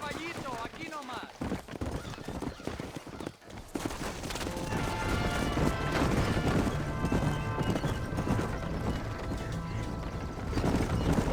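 Horse hooves clip-clop at a galloping pace in Red Dead Redemption, with a whinny and gunfire-like bursts, growing steadier and louder after the first few seconds, with voices over it.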